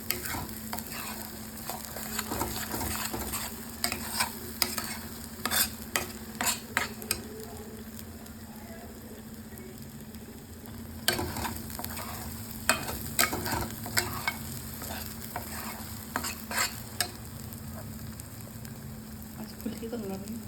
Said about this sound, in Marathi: आता ह्याला चांगलं वास येईपर्यंत, तेल सुटेपर्यंत परतायचं.